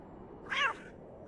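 A cat in the video game The Excavation of Hob's Barrow gives a single short, clear meow, fairly faint against a quiet background.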